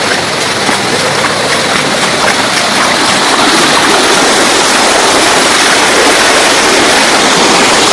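Water rushing continuously at Kakkidikkal waterfall, a loud, dense, unbroken roar close to the listener with no voices.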